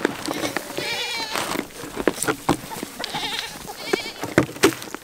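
Goats bleat repeatedly at close range on a farm while being offered treats, with rustling, movement and occasional voices between the wavering cries.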